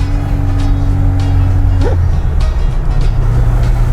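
A Moskvich car drives along, a loud, steady engine drone and road rumble inside the cabin, with a short rising engine tone partway through as it changes speed.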